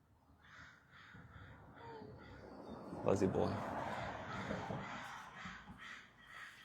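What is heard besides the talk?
crows cawing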